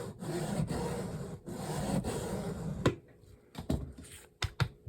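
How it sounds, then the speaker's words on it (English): A blade cutting into unexpectedly tough plywood, with close, rough rasping strokes for about three seconds, then sparse sharp clicks and snaps after a pause. "This is tougher plywood than I expected when I started cutting into it."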